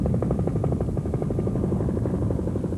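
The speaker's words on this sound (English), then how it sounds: "Giant Mi-6 helicopters were brought in to assist in the effort to extinguish the flames" Soviet Mi-6 helicopter during forest firefighting in the far north, its rotor throbbing in a steady rapid beat under a dense engine roar, loud and continuous with no talk.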